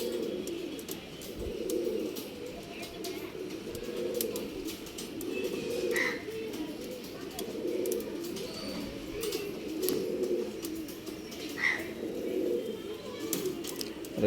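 Pigeons cooing in a steady repeating rhythm of low, soft, throaty calls, close by, with occasional faint chirps and rustling in the background.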